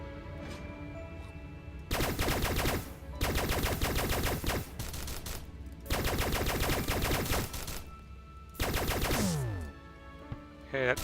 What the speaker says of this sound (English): I'm going to switch back to a better gun